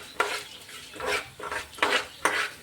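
Coriander seeds and cumin frying in a pan, with four or five distinct stirring strokes, scraping of a utensil against the pan and faint sizzling between them, fairly quiet and with no voices.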